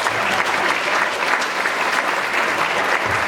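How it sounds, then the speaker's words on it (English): A crowd at a school spring concert applauds steadily, a dense wash of clapping that holds at the same loudness throughout with no pauses. "one more round of applause for the viewers"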